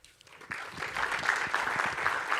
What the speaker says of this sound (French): On peut applaudir la première adjointe.